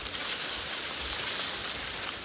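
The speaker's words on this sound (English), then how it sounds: "I think it's pretty much hailing at this point." Steady dense patter of hail or heavy precipitation striking surfaces, a continuous broadband hiss with scattered sharper impacts, fairly close and even throughout.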